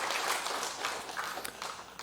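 A church congregation claps together in applause, a dense, steady patter of many hands filling the room for the whole stretch.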